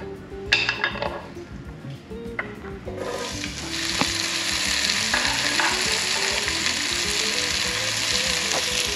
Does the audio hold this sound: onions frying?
yes